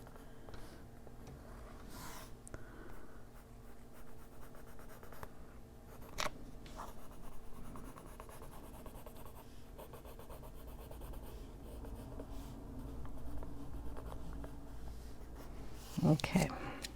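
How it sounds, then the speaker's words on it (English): Colored pencil held sideways shades lightly across paper in an adult coloring book, making a soft, continuous scratchy rubbing with a few sharper strokes. The sound is faint and close, and there is talk nearby. "I'm going to put the pencil kind of sideways and just lightly go over."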